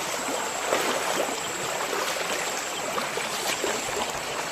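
A small village stream flows steadily nearby, a constant broad rushing and trickling wash with no voices, even in level throughout.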